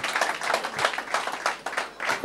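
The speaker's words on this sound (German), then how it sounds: "Bitte einen herzlichen Applaus für unseren Mittelfeldmotor" A few people at a football club talk event clap in a sparse, uneven rhythm, individual claps distinct and fairly quiet rather than a full crowd roar.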